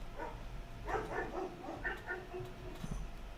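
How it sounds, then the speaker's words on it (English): A big dog barks several times in the background of a quiet indoor room, faint and somewhat distant, in short irregular bursts. "You hear my dog? I got a big dog."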